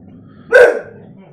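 A small pet guard dog gives one short, sharp indoor bark, close and fairly loud, against a quiet room background.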